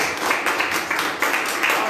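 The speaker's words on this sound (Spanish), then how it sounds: "dale un fuerte aplauso al Señor" A congregation in a church service claps together, a steady, dense wash of applause that fills the room without pause.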